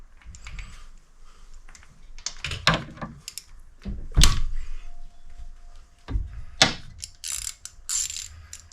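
A ratchet clicks in short bursts while backing off a bolt on a Harley-Davidson Road King cam chest, close metallic pawl chatter in several separate runs with quiet pauses between.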